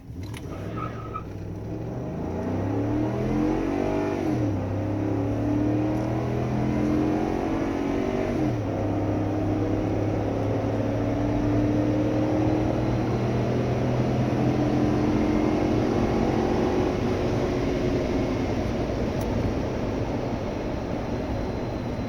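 A 2011 Ford F-150 pickup with the 5.0-liter V8 launches from a full stop and pulls hard to 60 mph, engine revving up through several gear shifts in a loud, continuous in-cabin roar with no talking.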